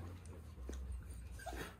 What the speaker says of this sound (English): This is my baby dog.